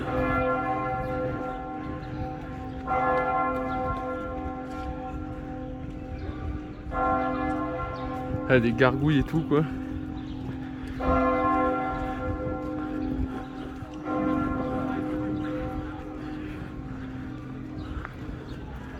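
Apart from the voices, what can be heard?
church bells ringing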